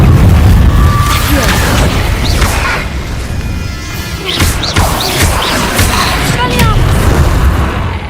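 An Incendio fire spell cast in a game, heard as loud booming whooshes and crashing impacts in quick succession, with voices in the background.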